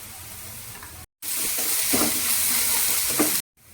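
Onions fry in a pan with a half spoon of ginger garlic paste added, giving a steady loud sizzle with a few stirring scrapes and two brief silent breaks.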